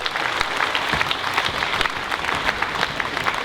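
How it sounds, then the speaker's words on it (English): An audience claps after a speaker finishes a talk, producing a dense, continuous patter of many hands with sharp individual claps popping out, fairly loud and close throughout. "Give him a big round of applause"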